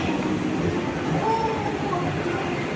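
Ride-on toy train in a shopping mall, a steady rolling rumble with faint squeals over the hum of a crowded indoor space.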